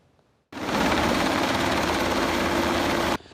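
A Black Hawk military helicopter of a Taiwanese army aviation brigade lands on a university sports field, its loud, steady rotor and engine roar starting abruptly and holding for a few seconds before cutting off, heard alone.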